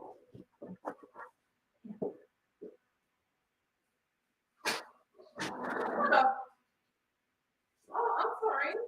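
A few short dog barks and yelps at a home late at night, scattered and fairly faint, with someone talking in between.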